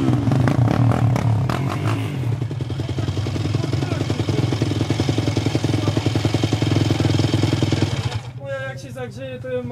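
Yamaha motorcycle engine runs steadily at close range with a dense, buzzing harmonic drone, then drops off sharply near the end as the revs fall away; voices can be heard faintly over it.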